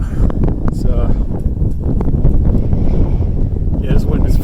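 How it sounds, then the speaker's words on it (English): Strong, gusty winter wind buffets the microphone outdoors in North Dakota in February at around 23 degrees, a loud, rumbling low roar with irregular bursts throughout. "this wind is pretty bad today, actually"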